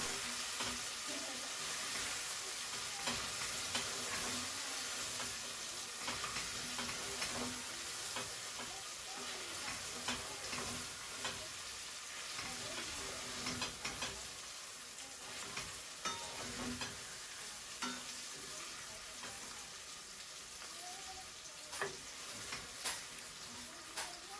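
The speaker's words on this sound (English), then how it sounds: "Give it one last stir." Cooked, well-coated pork stirred in a hot pan, a steady soft sizzle with scraping stirring sounds throughout, fairly quiet and continuous with no talking.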